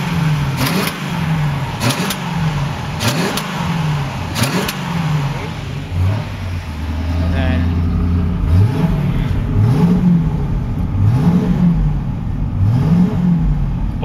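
A freshly rebuilt engine in a 1970 Pontiac Trans Am runs loud and close, with a series of sharp throttle revs rising and falling in a repeated rhythm over a rumbling idle.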